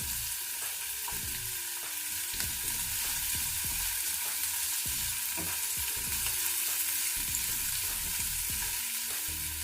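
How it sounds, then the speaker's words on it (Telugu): A green chilli frying in hot oil, a continuous close sizzle with repeated scrapes and clicks of stirring throughout. "ఇది కొంచెం వేగనిద్దాము"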